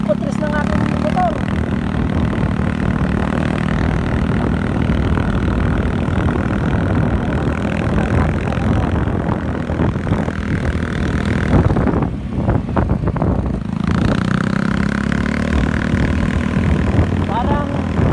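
A motorcycle engine drones steadily throughout a ride on a mountain road, loud and continuous with slight shifts in pitch, heard alone with no voices.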